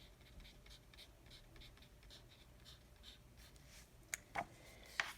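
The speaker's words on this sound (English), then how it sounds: "So I'll just write Hulu and Netflix." Pen scratching across a paper budget workbook page in soft, steady strokes, quiet and close, ending with a few sharper taps as the writing finishes.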